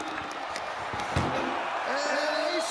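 An ambulance door slams shut in the WWE 2K24 wrestling game, a single sharp bang in the middle of steady crowd noise, with commentary running throughout.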